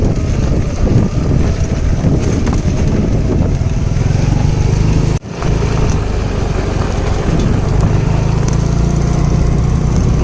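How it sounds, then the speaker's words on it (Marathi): Several motorbikes ride off-road on a rough village track in rural Konkan, a loud, steady engine drone with wind buffeting the microphone, broken by a brief dropout midway. "हा पूर्णपणे आता ऑफ रोड आहे आणि ऑलरेडी आपण तीन बाईक घेऊन आलो आहे"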